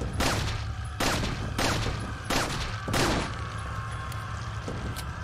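Gunfire in Resident Evil 4 gameplay: five loud, sharp shots spaced roughly every half second to a second, each with a short ringing tail, over a steady low game hum.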